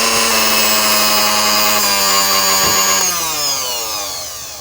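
A Ros kitchen mixer's motor runs loud and close, a steady high whine that shifts down in pitch as it changes speed and then winds down near the end.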